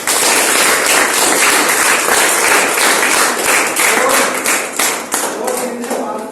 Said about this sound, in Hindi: तो जिन बच्चों ने भी पार्टिसिपेट किया है उन सबके लिए तालियां।